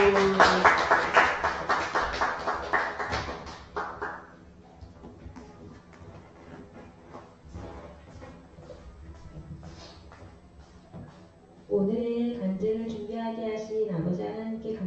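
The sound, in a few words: congregation applause for the testimony speaker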